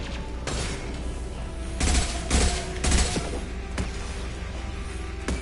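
Automated turret fire in Mass Effect sounds as rapid, loud bursts over a constant background din, with heavier thumping impacts in the middle.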